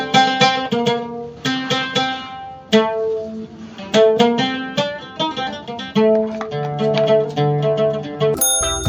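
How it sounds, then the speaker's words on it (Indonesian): Gambus Palembang, a traditional plucked lute from Palembang, plays a bright melodic run of picked notes and short strums, close and clear, ending with a brief high ringing tone. "Gambus Palembang adalah alat musik petik tradisional khas Palembang"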